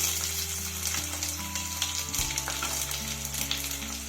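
Chopped onions fry in a pan with curry leaves for a South Indian sambar, a loud continuous sizzle with occasional stirring scrapes, near and without speech.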